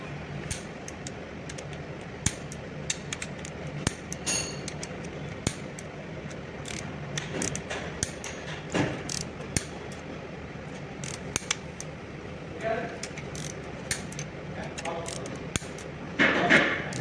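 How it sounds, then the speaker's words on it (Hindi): Torque wrench tightening cylinder head bolts on a Mercedes-Benz M270 petrol engine, scattered metallic clicks and ratcheting taps over a long stretch, close, with someone talking at times. "अब हम इसको टॉर्क करेंगे 10 न्यूटन मीटर"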